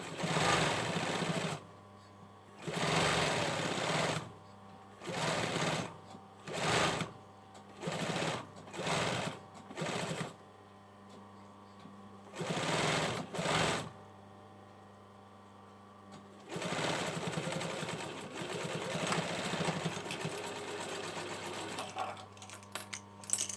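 A domestic sewing machine stitches a buttonhole for a drawstring cord on thick hoodie fabric in a series of whirring bursts, short and long, separated by pauses and ending in one longer run, close and with no talking.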